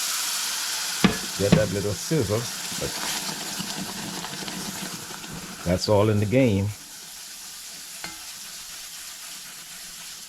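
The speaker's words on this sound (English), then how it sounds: "We're going to get that little sizzle." A steady hiss of milk mixture for an Indian Diwali sweet sizzling in a hot pot while being stirred, running throughout, with a person speaking over it twice before the sizzle drops quieter near the end.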